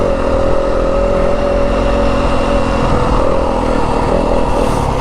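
A 2025 Yamaha WR250F dirt bike in second gear on a rough Arizona desert trail, its engine holding a steady, close, unbroken drone with an even buzzing tone and no talking.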